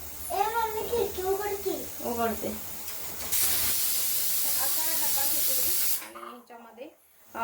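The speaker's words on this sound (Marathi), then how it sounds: "इथे कुकर चालू आहे" A pressure cooker hisses loudly with a steady rush of steam for a few seconds, with a child and an adult talking before and after.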